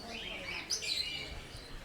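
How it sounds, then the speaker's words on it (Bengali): Small birds in an aviary at Alipore Zoo in Kolkata, faint high chirps and tweets scattered over a low murmur of background noise, distant and brief. "দেখো কি সুন্দর সুন্দর ছোট ছোট পাখি"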